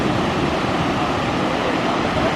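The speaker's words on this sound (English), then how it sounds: "I don't think I've ever seen a waterfall like this before in my life" Roaring Icelandic waterfall in icy winter conditions, a dense unbroken rush of falling water filling every moment at steady loudness, with no voices.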